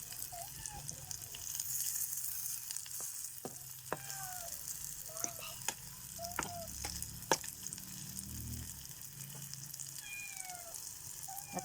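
Garlic frying in a pan gives a steady, soft sizzle and crackle, with sharp clicks and scraping stirs. A cat meows several times over it.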